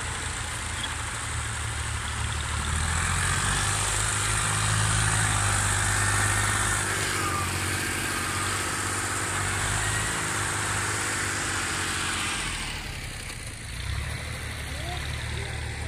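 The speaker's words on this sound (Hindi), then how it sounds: "देखो देखो 640 ट्रैक्टर के मिट्टी चाह रही है।" A 640 tractor engine runs steadily while moving soil, a continuous low idling rumble throughout with a brief dip in level near the end.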